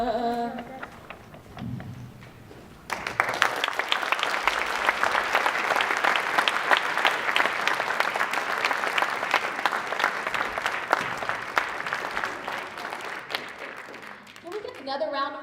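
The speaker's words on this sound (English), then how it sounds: "Another round of applause for the group." An audience at a student recognition event applauds a group of three women performers, a steady, dense wash of clapping that starts abruptly and holds for about twelve seconds, with speech heard before and after.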